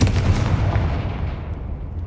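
A Confringo spell blasts in Hogwarts Legacy, a loud deep booming explosion right at the start that rumbles and fades over about two seconds.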